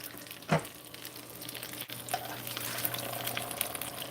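Thick grits cook in a pot, sizzling and bubbling softly while a spoon stirs and scrapes, with a sharp knock near the start and a faint, steady simmer throughout.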